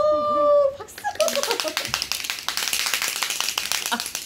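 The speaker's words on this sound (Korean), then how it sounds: "박수!" A small group of people claps briskly after a brief spoken exchange, quick uneven claps close by, with laughter and chatter mixed in.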